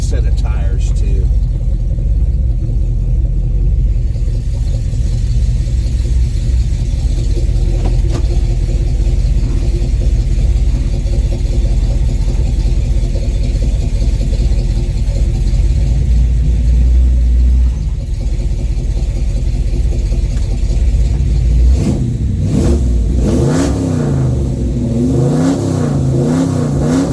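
A 1970 Chevelle V8 rumbles with deep, loud engine drone through a ride along, the pitch rising and falling as it revs and accelerates, with voices talking over it at times.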